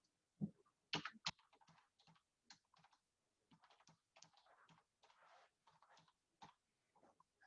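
Keys tapped on a computer keyboard while entering a username, a quiet, close run of irregular clicks with a couple of sharper strikes early on and brief pauses between bursts.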